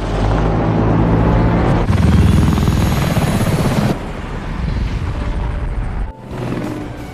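The Orca aircraft in a film scene roars loudly on takeoff, a dense, rumbling engine wash that swells and then eases back, with a brief dip near the end.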